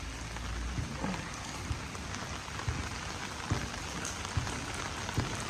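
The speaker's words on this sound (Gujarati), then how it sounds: "અરે યાર બહાર બહુ જ વરસાદ છે, પાણી બહુ ભરાઈ ગયું છે." Steady heavy rain pours down on a garden, with a dense hiss and scattered louder drips and splashes landing close by.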